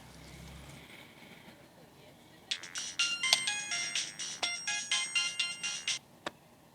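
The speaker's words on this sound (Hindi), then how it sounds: "किसका फोन है?" Phone ringtone in a TV show, a bright repeating electronic melody that starts after a quiet stretch and pulses steadily for a few seconds before cutting off, with low background talk.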